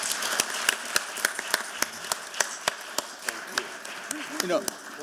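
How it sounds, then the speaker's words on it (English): Scattered hand claps from an audience thanking a conference panel, a handful of separate sharp taps spread over a few seconds rather than a full ovation, with a voice murmuring faintly underneath. "please join me in thanking the panel. Give them a round of applause"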